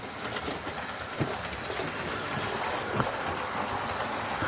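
A small model steam locomotive rumbles steadily along its track with faint clicking wheel sounds and occasional soft knocks, no voices.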